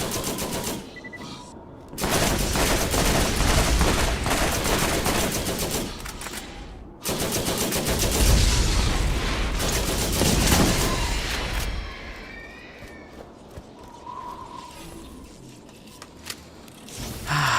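Roland's deployable turret in the video game Borderlands fires sustained automatic bursts, loud and dense, in two long volleys with brief pauses between, then tapers to sparser shots and ambient game sound.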